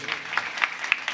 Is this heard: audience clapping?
yes